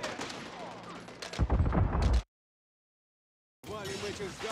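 Rapid gunfire and explosions from the video game Call of Duty: Modern Warfare III crackle loudly for about two seconds, cut to silence, then resume with more shooting.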